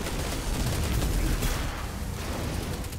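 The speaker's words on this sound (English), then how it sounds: "Oh, I shot him." Dense, sustained gunfire from the video game Destiny 2: Curse of Osiris, a loud continuous fusillade of rapid shots with no pause, heavy and close throughout.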